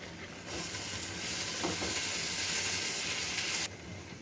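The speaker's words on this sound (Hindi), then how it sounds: "देखो आलूटा फ्राई हो जाइए।" Baby potatoes fry with masala in hot oil, a loud, close, steady hiss and sizzle that swells in after a short quiet start and cuts off near the end, with no talk.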